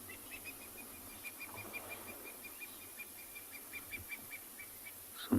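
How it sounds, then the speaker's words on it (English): Distant birds call at sunrise on a safari in a Kalahari reserve, a faint repeated series of high, evenly spaced notes over a quiet background with no voices. "Some birds making a noise off in the far end"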